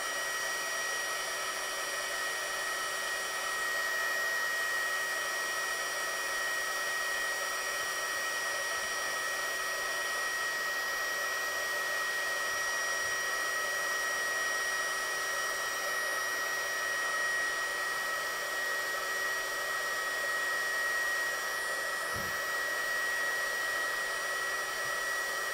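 A heat gun blows steadily on a card while melting embossing powder, a constant loud whooshing drone with a faint hum, unbroken for the whole stretch and with no voices.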